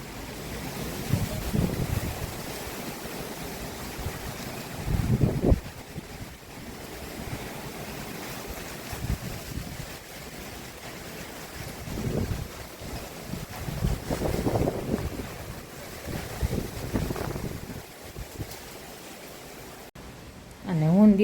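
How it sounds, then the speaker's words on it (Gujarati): Strong, unseasonal storm wind roars in gusts and buffets the microphone in rising and falling surges, with a person talking at times. "એટલો પવન છે."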